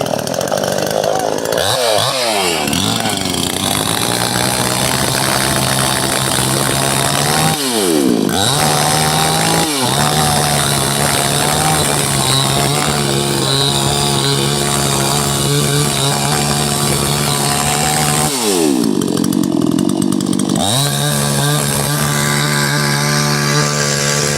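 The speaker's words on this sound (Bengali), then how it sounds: "আবার মেশিন দিয়ে গাছটাকে কাটছে সুন্দর করে" A chainsaw cuts through a tree in a rural village, its engine droning loud and steady for the whole stretch, with a few brief drops in pitch as the saw bogs down or eases off between cuts.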